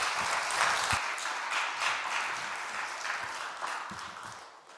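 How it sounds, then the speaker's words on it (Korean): A church congregation applauds during a Wednesday worship service, producing a sustained round of dense clapping from many hands with a few sharper individual claps, gradually tapering slightly toward the end. "우리 7, 8교구 분들이 박수를 가장 크게 치시는 것 같습니다"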